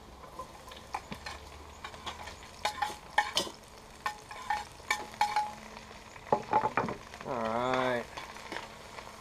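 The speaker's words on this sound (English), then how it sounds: "Now here go our mushrooms and onions." Mushrooms and onions frying in a pan on a backyard rocket stove, a close sizzle broken by repeated sharp scraping and clanking of a utensil, with a brief spoken word and a short squeaky tonal sound near the end.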